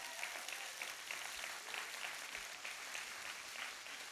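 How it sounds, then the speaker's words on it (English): A live event audience in a studio space gives a continuous round of applause, steady and moderately distant, with no talk over it. "can you all give them a huge round of applause?"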